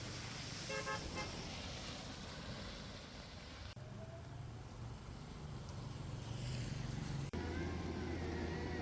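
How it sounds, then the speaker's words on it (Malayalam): An electric bus runs on a rainy road near Infopark Kakkanad in Kochi, on the route linking it with the Water Metro. Steady rain hiss and a low vehicle rumble continue throughout, with a brief horn-like toot early on. "ഈ പോകുന്നത് വാട്ടർ മെട്രോയും കാക്കനാട് ഇൻഫോ പാർക്കും തമ്മിൽ ബന്ധിപ്പിക്കുന്ന ഇലക്ട്രിക് ബസ്സാണ്"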